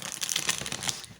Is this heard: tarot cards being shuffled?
yes